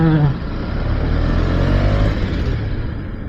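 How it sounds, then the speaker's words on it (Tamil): Steady road traffic with cars and motorcycles, a continuous close engine rumble and drone with no clear pauses, heard from within the flow of vehicles. "டிராஃபிக்காக இருக்குது."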